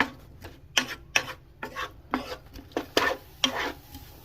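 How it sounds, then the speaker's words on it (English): Red onion being stirred into olive oil in a pan gives a series of close, scraping strokes, roughly one every half second, over a faint low background. "I'm adding my red onion. I'm going to get it coated with this olive oil a little bit."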